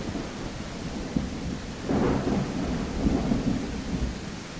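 A thunderstorm with rain in the dinosaur survival game The Isle, with steady rain hiss and a rumble of thunder swelling midway, loud and continuous throughout.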